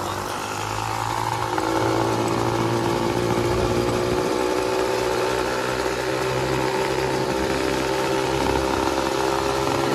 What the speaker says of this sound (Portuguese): Rapaziada, esse motor aqui eu tô amaciando ainda, tá ligado?